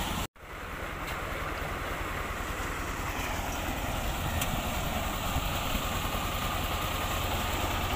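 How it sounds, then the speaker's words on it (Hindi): A Peter diesel engine powering a water pump runs steadily, a dense continuous low rumble and drone that starts abruptly after a brief gap and holds loud and even throughout. "तो ये जो है हमारा पीटर लगा हुआ है, ठीक है, इंजन पीटर।"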